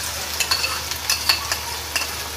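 Chicken frying in a pan with garlic and onion, with a low, steady sizzle broken by repeated quick scrapes and taps of a spatula stirring, close up and with no voices.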